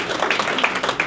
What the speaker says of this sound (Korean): 박수 치고 계시는데